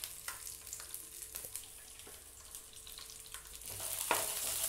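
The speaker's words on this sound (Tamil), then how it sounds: "எல்லாம் சேர்த்து நல்லா வதக்கி விடுங்க" Shallots sautéing in hot oil in a pan for a chutney: a soft, continuous sizzle with occasional stirring scrapes, close but fairly quiet, rising slightly toward the end, with no speech.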